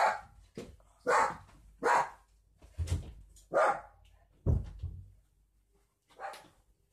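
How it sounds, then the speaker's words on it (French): A dog barks repeatedly nearby, a series of seven or eight loud separate barks with short pauses between them. "Donc voilà, elle aboie."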